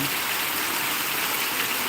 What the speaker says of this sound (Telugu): ఇల్లు వర్షం పడుతుంది